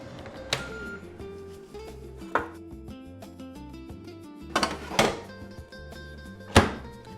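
Chips placed back into an air fryer basket, with a few sharp clunks and a final firm thud as the basket slides shut, all heard over steady background music, no talking.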